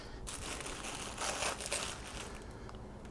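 Knife cutting the leaves off a head of fresh broccoli, faint crisp crunching and crinkling rustles with a slightly louder snap midway, quiet and close.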